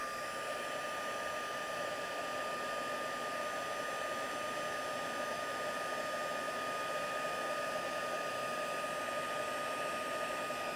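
A hair dryer blows steadily on scrapbooking cards being dried, a close, constant whirring roar with a thin high whine that holds without a break throughout.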